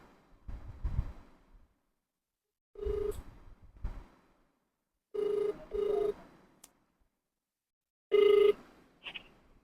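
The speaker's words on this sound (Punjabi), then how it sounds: "ਇਹ ਫੋਨ ਆਪਾਂ ਵੀਰੇ ਦੇ ਫੋਨ ਤੋਂ ਕਾਲ ਲਾ ਰਹੇ ਆਂ" A telephone ringback tone sounds in short repeated bursts separated by pauses, with faint low rumbling underneath and no voices.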